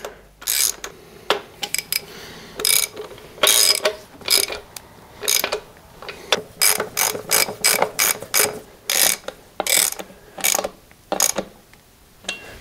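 A ratchet wrench tightens bolts on an Isuzu 4BD1T diesel engine from a Hitachi EX120-2 excavator, giving loud close-up bursts of rapid clicking strokes in a steady back-and-forth rhythm with brief pauses, no talking.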